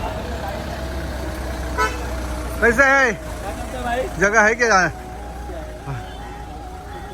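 Cars and trucks crawl through a traffic jam at the weekly market in Jaitapur, with a steady engine rumble, two loud horn blasts in the middle and a short toot near the end, while people talk.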